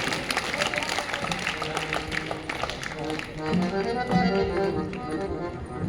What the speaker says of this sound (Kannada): ಇನ್ನೊಂದು ಸಾರಿ ತಮ್ಮೆಲ್ಲರ ಚಪ್ಪಾಳೆಗಳು ಪೂಜ್ಯರ ಶ್ರೀಪಾದಕ್ಕೆ ಅರ್ಪಿತವಾಗಲಿ.